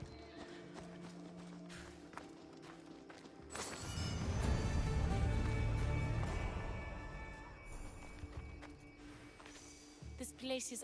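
Horse hooves galloping in the action game Assassin's Creed Odyssey, a loud rolling rush of hoofbeats swelling in the middle then fading, with voices talking before and after.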